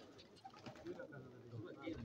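Black pigeons kept as flying birds coo softly in a low, murmuring run of calls, faint and close, with background noise and some voice beneath.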